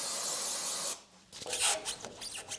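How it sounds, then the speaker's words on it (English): Silicone spray hissing onto the sway bar bushings of a BMW M3 Competition, one long steady blast, then a pause before squeaky rubbing and shorter spray bursts up close. "Let me get some silicone spray"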